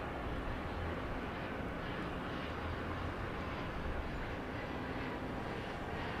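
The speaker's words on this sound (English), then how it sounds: "RNAV Nolan, clear for takeoff, 31 left. It's an Embraer Phenom." An Embraer Phenom 300 business jet taking off from runway 31 left at Dallas Love Field, a broad, steady engine roar that stays loud and even throughout.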